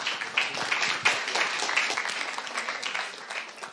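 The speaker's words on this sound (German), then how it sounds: "Applaus." Conference audience applauding to welcome a speaker before a talk on hackback in Germany, a moderate round of clapping with individual claps audible, lasting a few seconds and easing off slightly.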